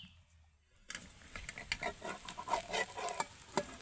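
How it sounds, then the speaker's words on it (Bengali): Near silence, then a sudden loud sizzle of egg frying in hot oil in a wok, crackling and popping steadily. "বড় করে কিন্তু ডিমটাকে ভেজে নিতে হবে।"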